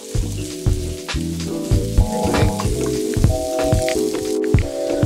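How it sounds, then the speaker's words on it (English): Potatoes, onion and garlic sautéing in oil are mashed with a wooden spoon, bringing a loud, busy crackle of frying and repeated thumping, scraping strokes against the pan, close and continuous, with no talking. "our aromatics and potatoes are sauteing real lovely"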